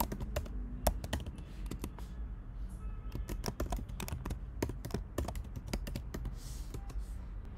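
Rapid keystrokes on a computer keyboard as an email address is entered, a steady run of light, irregular clicks close by with no voices.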